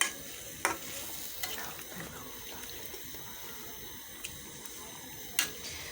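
Chicken curry simmers in a pan just after broth is poured in, giving a steady bubbling, sizzling wash with a few sharp clinks of stirring, close and with no one talking.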